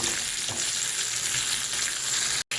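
Chopped tomatoes and green chillies sizzle in a frying pan for a thin Bata fish jhol, a steady close hiss with faint stirring scrapes, cutting off abruptly at the end.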